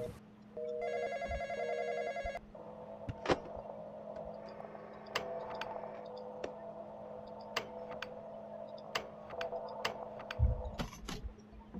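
A telephone rings in the Roblox horror game The Intruder with a buzzy electronic ring burst early, then softer tones over a low hum, punctuated by sharp clicks and ticks.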